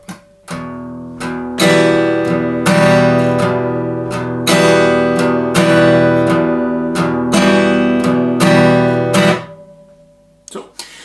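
An acoustic guitar strums a repeated chord in a steady down-and-up pattern, with crisp strokes and a ringing tail fading at the end.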